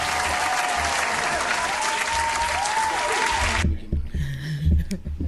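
Dense, loud applause from a crowd runs steadily for several seconds, then cuts off abruptly, leaving a brief murmur of voices and faint room sounds.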